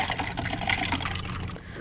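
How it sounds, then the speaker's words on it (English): Iced coffee pours into a cup in a steady, close liquid splash lasting under two seconds, with no talking over it. "We have to pour this into my cup."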